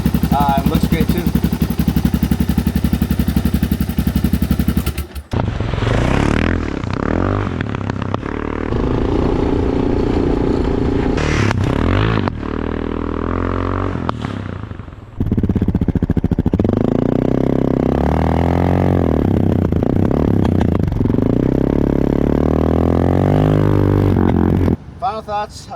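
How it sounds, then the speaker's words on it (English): A Suzuki DR650 motorcycle engine with a LeoVince X3 EVO aftermarket exhaust runs loud and close, revving up and down with a deep, throaty exhaust rumble and brief dips between revs. "I really like the exhaust. Sounds really good."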